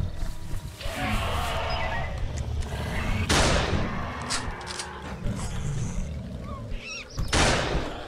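Machine gun fire in a jungle dinosaur survival horror game, several loud bursts of shots with sharp onsets amid rumbling ambience and creature roars.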